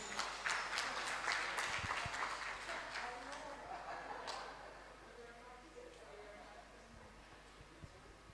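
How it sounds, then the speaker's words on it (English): Audience applause at the launch of the Open Forum on Agricultural Biotechnology Malawi chapter, a steady wash of clapping that slowly thins and fades, with a few scattered claps and faint room murmur toward the end. "Another round of applause,"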